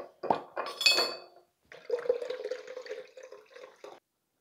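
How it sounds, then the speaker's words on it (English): Plain kombucha poured into a glass bottle to fill it to the top, a short splash followed by a steady gurgling stream with a rising bottle-filling tone, close and alone. "I'm going to top it off with some plain kombucha, just so that we have a full bottle"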